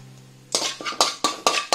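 Metal spoon stirring curry leaves frying in a pan, about six clattering scrapes against the pan in a steady rhythm, loud and close after a brief quiet start.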